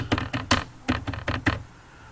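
Keystrokes on a computer keyboard, entered while putting together a business card design: about eight close, crisp taps in an uneven rhythm over two seconds, then quiet.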